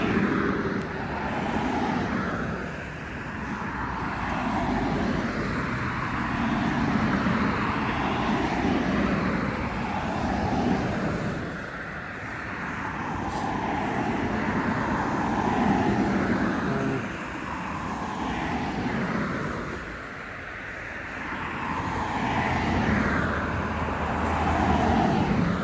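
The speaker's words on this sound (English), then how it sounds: "It's a never-ending line of cars." A never-ending stream of cars passing on a busy road, each one surging up and fading away in repeated waves of tire and engine noise, near and steady.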